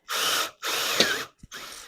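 A power drill with a 3/4 inch bit runs in three short bursts during a Toyota Tacoma flat tailgate panel build, each a loud whirring grind separated by brief pauses, close and alone.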